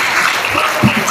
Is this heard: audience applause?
yes